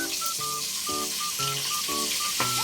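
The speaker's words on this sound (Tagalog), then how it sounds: "Sabi ko ako talaga mag-prito ng bangos." Oil sizzles, crackles and splatters steadily with frying milkfish, while faint clinking and rhythmic tones sound in the background.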